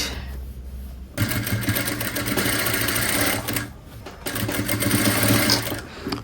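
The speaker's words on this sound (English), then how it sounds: "I'm going to top stitch on this side." A sewing machine top stitches fabric for a flared circle top, running loud and close as a steady mechanical whir and rapid needle chatter, stopping briefly twice before starting again.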